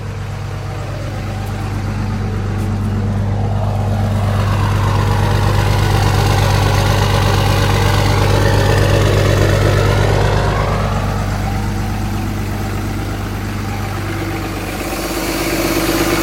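A Cummins 5.9 diesel engine runs at high idle while warming up after a water pump replacement, giving a loud, steady low drone with a constant hum that swells slightly midway and holds with no talking.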